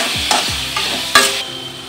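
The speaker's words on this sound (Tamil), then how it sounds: "ரசத்துக்கு தேவையான அளவு உப்பு சேர்த்து நல்லா வதக்கிக்கோங்க." Tomatoes with salt being sautéed in a pan for crab rasam, a steady sizzle broken by a few sharp scraping stirs of a spoon, close and loud, with no voices.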